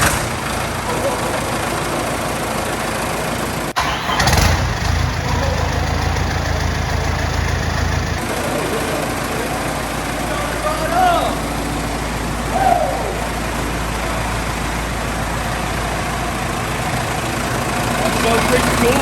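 A Cummins 4BT diesel engine cranks and fires with a short burst, then settles into a steady, loud low-pitched idle that runs on, with voices talking over it.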